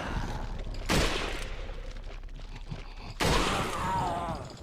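Gunfire and explosions from Resident Evil 4, with two loud bursts of shooting standing out above a steady din of game noise, the first brief and the second longer, with no talk over them.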